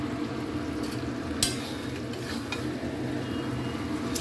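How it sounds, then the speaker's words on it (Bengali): Meat is stir-fried kosha style in oil in a pan, giving a loud steady sizzle throughout, with a few sharp scrapes and clinks of a stirring utensil against the pan. "মাংসটা কষছি, দেখো কি সুন্দর সাইডে তেল বেরিয়েছে"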